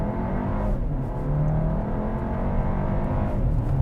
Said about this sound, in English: the engine is going to be trying to push through the brakes, but you have to hold it back